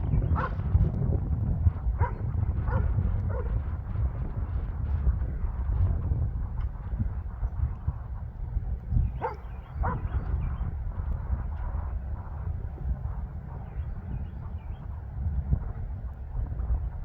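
A puppy named Echo barks in short scattered yips outdoors on a farm property while chasing a hawk, the barks fairly distant over a steady windy rumble.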